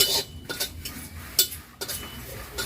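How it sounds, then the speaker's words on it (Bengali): Dry red chillies and bay leaves roast in a dry wok, a quiet close sequence of scraping stirs and light metallic clinks against the pan, repeating every half second or so with no talking. "শুকনো লঙ্কা তেজপাতাটা শুকনো কড়াই হালকা করে ভেজে নেব।"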